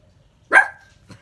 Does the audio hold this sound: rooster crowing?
no